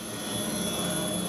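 A combat drone flies overhead, a steady, dense engine roar that stays constant and fairly loud throughout with no voices.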